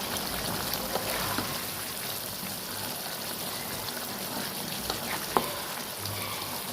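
Masala sizzles in a pan while cooking a mushroom dish, a constant close frying hiss with small crackles and a single sharp tick.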